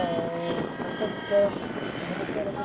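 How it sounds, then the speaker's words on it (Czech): Aerobatic radio-controlled model helicopter flying, a steady whining rotor and engine drone with shifting pitch at moderate distance, under continuous speech. "vrtulníkáři s těmito modely vrtulníků, s těmito akrobatickými modely vrtulníků letají takové obratu"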